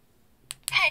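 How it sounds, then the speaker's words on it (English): The menu key on a Baofeng UV-5R handheld radio is pressed, giving two quick close clicks, the second followed by a short electronic beep. "Pressing the menu key once will enter the menu mode"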